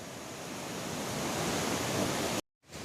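The Yamuna river rushes along near Yamunotri on the mountain trek, a dense, steady roar of water heard close, briefly cutting out near the end before resuming.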